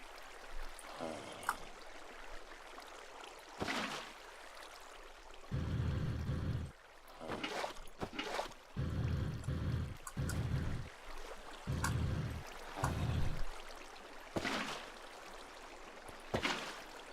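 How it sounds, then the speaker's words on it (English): Bursts of splashing, gurgling water from buckets placed in Minecraft come and go in uneven spurts, separated by short sharp clicks and quiet gaps; no one speaks. "we put down a bucket of water"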